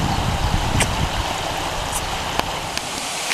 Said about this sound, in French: C'est une immense cascade